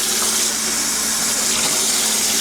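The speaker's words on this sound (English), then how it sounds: "we're gonna put some water and start stirring" Warm water pours steadily into a bowl for homemade pizza dough, a continuous close splashing gush with no talking.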